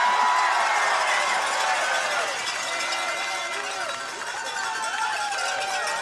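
A Saskatchewan Roughriders rally before the 112th Grey Cup, with a crowd of fans cheering and whooping loudly and continuously. Voices carry over the noise.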